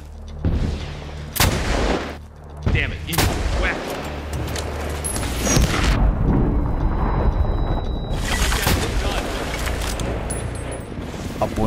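Bursts of gunfire in the game Medal of Honor Warfighter crack and boom in rapid succession, dense and loud, with overlapping shots and rumbling blasts throughout.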